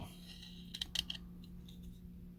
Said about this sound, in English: So I'll probably use the sonic saber and cut this out.